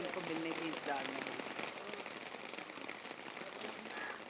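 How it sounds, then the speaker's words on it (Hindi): Rain pours steadily outside studio number 10 in Film City, a dense, close, continuous patter on surfaces, with a faint voice briefly audible near the start. "मैं खड़ी हूँ फिल्म सिटी में स्टूडियो नंबर 10 के बाहर बारिश में।"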